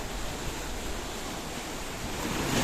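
Choppy sea waves washing against the Paphos seafront promenade in Cyprus, a steady, loud wash of surf with wind noise that swells slightly toward the end.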